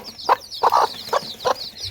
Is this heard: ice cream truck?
no